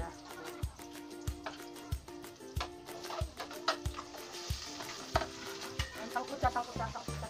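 Onion and then ginger sautéing in a pan, with a steady sizzle under repeated sharp spatula scrapes and knocks in an irregular rhythm, plus faint background music.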